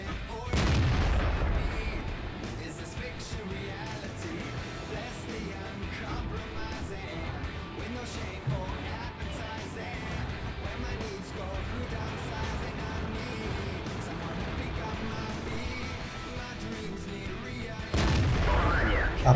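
Artillery fires in the World of Tanks video game, with heavy booms at the start and end and a low rumbling battle bed between them, under occasional speech.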